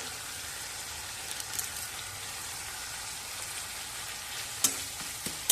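Bay leaves sautéing in hot oil with spices for a Bengali atta aloo kachori filling, giving a steady, close sizzle and crackle with a few sharp stirring clicks near the end.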